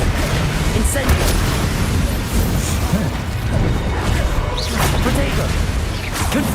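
Incendio fire spell cast in the video game Hogwarts Legacy, a loud burst of whooshing, crackling magic and impacts that fills the whole stretch, dense and continuous with brief flaring hits layered over it.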